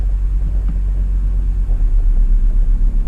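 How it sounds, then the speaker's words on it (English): A 2020 Audi RS3 in sport mode gives a loud, deep, steady exhaust rumble at idle revs, close by and continuous with no talking. "you hear immediately when you put it in sport how the exhaust note and the revs change"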